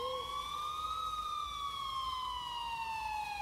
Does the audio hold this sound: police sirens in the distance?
yes